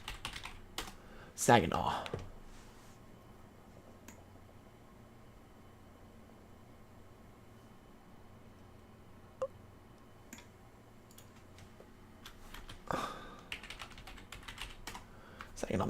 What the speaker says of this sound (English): I'm gonna type in Saginaw.